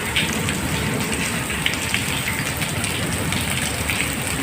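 Heavy rain pours down steadily and loudly in a dense, unbroken hiss of drops on surfaces, with no voices present.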